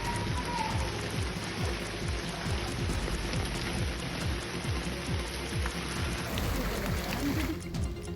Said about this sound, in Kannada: ತಮಿಳುನಾಡಿನ ಸೇಲಂನಲ್ಲಿ ಭರ್ಜರಿ ಮಳೆಯಾಗಿದೆ.